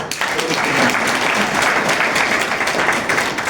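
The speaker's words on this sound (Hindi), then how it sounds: "प्रभु की महिमा के लिए जोरदार आप ताली बजाएं।" Loud, dense applause from a church congregation during a Sunday service, a steady wash of clapping that fills the room from start to finish with no pause.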